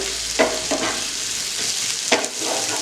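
Vegetables being fried and stirred in a pan with garam masala: a steady sizzle runs throughout, broken by a few sharp scraping strokes of a spoon against the pan. Close and clear, with no talk.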